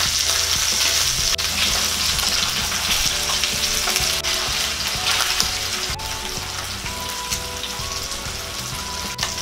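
Tuna fillet frying in hot oil after being flipped, a dense continuous crackling sizzle up close with small pops, steady throughout and without voices.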